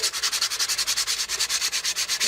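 Sandpaper rubbed briskly back and forth over a glued wooden pillar to rough up its surface, making a close, steady scratching rhythm of about eight strokes per second with no talk.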